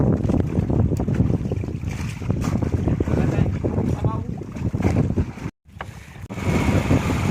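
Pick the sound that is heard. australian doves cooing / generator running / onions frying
generator running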